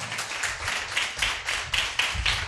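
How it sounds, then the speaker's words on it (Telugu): A church congregation at a Sunday worship service clapping in a steady rhythmic beat, many hands together, close and fairly loud with no voices over it. "చప్పట్లు కొట్టి దేవుని నామాన్ని మహింపరుద్దాం."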